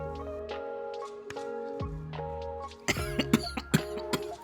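A few close coughs and throat clearing, short harsh bursts standing out against a quiet background.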